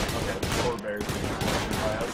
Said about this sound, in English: Everyone fire at him right now.